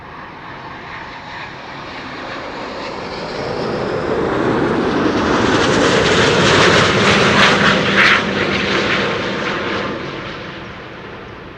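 A Corendon Airbus A350, registration EC-NZF, arriving at Amsterdam Schiphol on a sunny day: a broad jet roar that builds steadily as it approaches, peaks loud overhead, then slowly fades.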